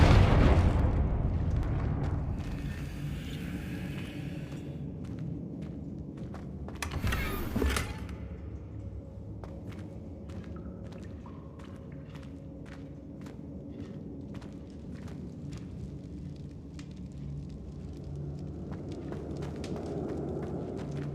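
Confringo explosive spell in Hogwarts Legacy lands with a heavy boom near the start and a second blast midway, followed by quieter rumbling, footsteps and scattered clicks.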